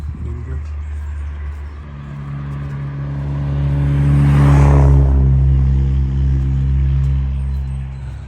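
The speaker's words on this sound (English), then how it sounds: "I'm sure that has some pops out of the exhaust, and I'm sure it also has a dump valve on the turbo" Turbocharged car with exhaust pops and a turbo dump valve passing on a road by an English village common, its engine note swelling as it goes by over a steady low rumble, with someone talking throughout.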